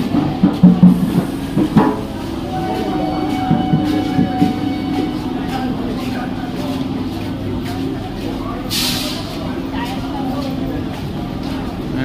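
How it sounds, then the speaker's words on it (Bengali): A train stands at a platform at Sealdah station, its low steady engine hum and rumble filling the scene for several seconds, with a few clanks early on and a hiss of air midway. "ওই ট্রেনটা যাওয়ার জন্য প্রস্তুতি নিচ্ছে।"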